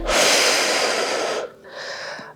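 A forceful breath pushed out during a flat-belly and pelvic-floor workout: one long, loud, close exhale, then a shorter, softer second breath after a brief pause.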